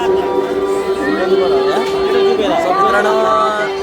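Dense crowd chatter at the packed Bharadi Devi fair at Anganewadi, a steady hubbub of many overlapping voices near and far with no pause.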